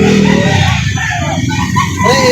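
Chickens and roosters for sale at a poultry market in Lipa City, Batangas, clucking and crowing close by over a busy background murmur.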